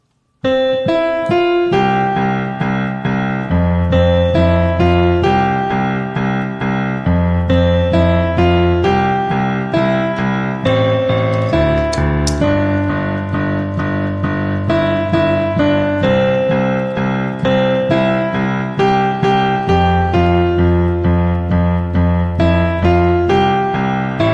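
A solo piano plays a flowing melody over steady low left-hand root notes struck on each chord change, bright and close with no talking.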